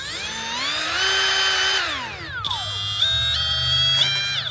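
A Hercules cordless right angle die grinder whines at high pitch, winds down, then spins back up to a steady loud buzzing motor tone, close by.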